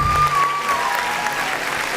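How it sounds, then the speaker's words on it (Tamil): An audience gives a vote-of-thanks round of applause, a loud sustained wash of many hands clapping together with a faint tone fading out early. "இப்போ ஒரு நன்றி, பலத்த கரகோஷம்"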